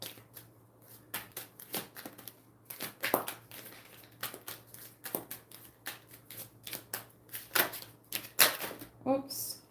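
Tarot cards are shuffled in quick riffling bursts, a rapid run of crisp snapping flicks close by, ending with cards spilling and scattering.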